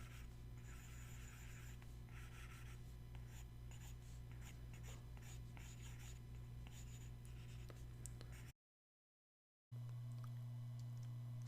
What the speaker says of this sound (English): I will draw it a bit more like this